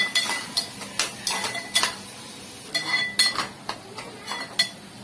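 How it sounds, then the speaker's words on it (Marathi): Chopped onion being stirred and pressed in a pan of butter with a metal spoon, giving a steady run of sharp clinks and scrapes against the pan at close range, with no talking. "छानपैकी आपण आपला कांदा कोंबून घेऊया. कांदा कच्चा राहता कामा नये."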